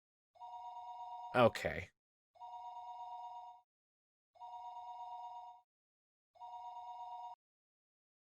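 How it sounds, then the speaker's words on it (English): A telephone rings in the visual novel Higurashi: When They Cry, four even, electronic trilling rings with quiet gaps between them, and a brief spoken word overlaps the first ring. "The phone rang for a third time."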